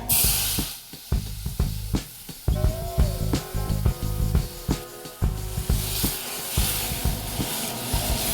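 Vegetable stock poured into a hot pan of garlic and onions hisses and sputters in repeated bursts, close and fairly quiet, with sharp clatters throughout.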